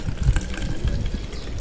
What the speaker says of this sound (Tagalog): ang kailangan lang po natin ay salinan po siya ng tubig